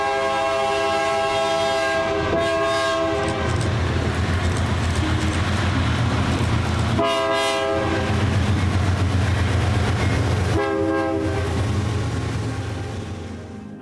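A Kansas grain freight train rolls past with a loud, steady rumble and clatter of cars, horn blasts sounding repeatedly throughout, close by and continuous.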